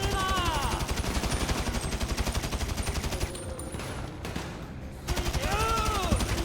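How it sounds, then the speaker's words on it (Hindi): Rapid bursts of automatic gunfire in a Grand Theft Auto video game, loud and rhythmic, with a short lull in the middle before the shooting resumes. "इतनी गोलियां मार दी इसकी"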